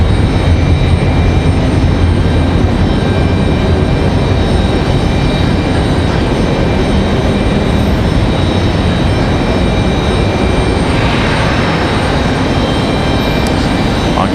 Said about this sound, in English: So I imagine this A321 headed to Charlotte.